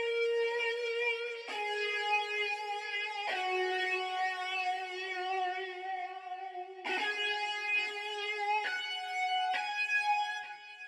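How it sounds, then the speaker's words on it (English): An overdriven, distorted synth guitar lead from a Benji Cole preset in the Expand plugin plays a sustained melodic phrase with long held notes, alone and steady throughout. "I grabbed this overdriven guitar"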